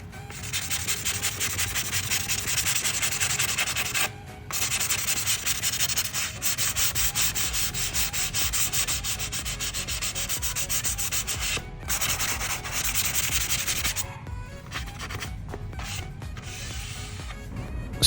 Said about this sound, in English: go back and sand that down and get a super smooth finish